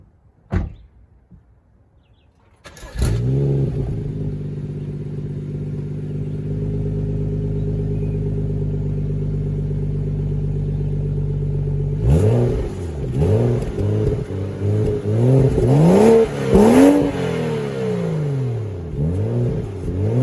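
A BMW 435xi with a catless downpipe and resonator delete starts up with a sudden roar, settles into a steady idle, then is revved repeatedly in sharp rising and falling bursts with crackling pops.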